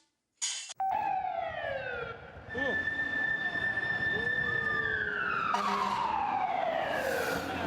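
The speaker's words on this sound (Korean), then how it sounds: "뉴욕의 소리죠. 뉴욕의 소리. 사이렌 소리." An emergency vehicle siren wails on a New York street, its rising and falling tones sweeping loudly through city traffic noise for several seconds.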